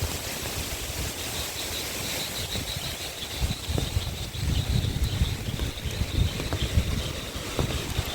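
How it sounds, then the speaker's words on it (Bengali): Strong cyclone winds in a village during Cyclone Remal roar and buffet the microphone in continuous gusts, loud and close, growing rougher toward the end with no clear speech. "যেই জোরে বাতাস গাইজ, আমার ছাতাটা কখন যেন উড়িয়ে নিয়ে যায়"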